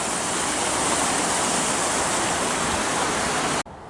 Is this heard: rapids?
yes